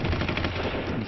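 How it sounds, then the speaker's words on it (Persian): Dense sustained gunfire from army troops firing on a street crowd during unrest, a loud continuous rattle of rapid shots with no pauses. "اونا تیراندازی کردن."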